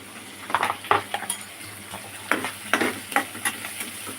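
Onion, chilies and curry leaves sizzling in a pan while being stirred: a steady frying hiss under repeated scraping and clinking of a utensil against the pan, with no talk.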